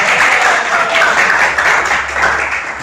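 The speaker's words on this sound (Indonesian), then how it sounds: "Oke, tepuk tangan." A classroom group claps together during a micro-teaching lesson, a dense, steady burst of hand claps that holds at an even level for about three seconds and eases slightly toward the end.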